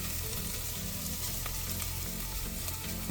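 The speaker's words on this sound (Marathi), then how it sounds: "ही लसूण चांगली आपण गोल्डन ब्राऊन होईपर्यंत थोडीशी या तेलात फ्राय करून घेणार आहे" Garlic frying in oil until golden brown for a crab soup, a steady dense sizzle running evenly throughout at moderate level with a few faint crackles, no voices.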